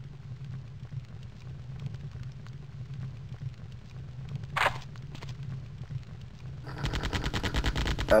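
Gunfire in the video game Terminator: Future Shock, with repeated shots over a steady low game hum, a sharp burst midway, then a dense rapid volley near the end.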